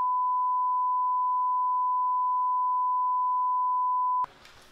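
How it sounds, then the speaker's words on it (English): A long, unbroken censorship bleep tone holds steady and loud for about four seconds, then cuts off abruptly into faint room noise. "I'm gonna bleep everything like I did last time. It's just gonna be one long bleep."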